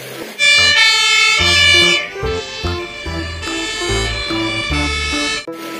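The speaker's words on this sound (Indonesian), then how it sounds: "Ada mobil pemadam kebakaran teman-teman." A loud wailing siren from a toy fire truck, electronic and toy-like, cycling through its tones continuously at close range.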